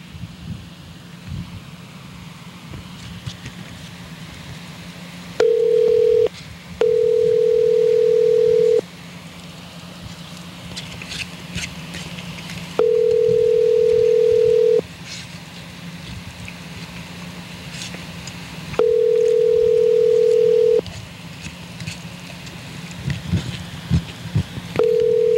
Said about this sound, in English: Calling Andrew's cell phone